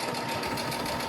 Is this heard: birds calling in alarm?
no